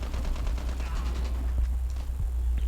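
AK rifle fire in a Call of Duty match comes as dense, overlapping gunshot bursts in a loud game mix, with steady rumble underneath and a faint voice mixed in.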